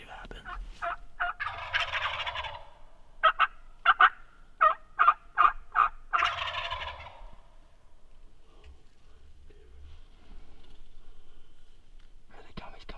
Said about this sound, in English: they just gobbled again, and then they sounded a little closer